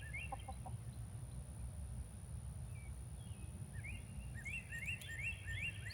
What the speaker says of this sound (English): Chickens tearing up my garden bed.